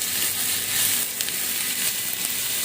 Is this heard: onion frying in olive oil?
yes